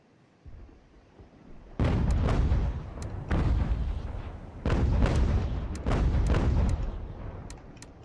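Cannon fire in the video game Ultimate General: American Revolution 2 booms four times in a row, each heavy blast followed by a rumbling roll, over a low background hum.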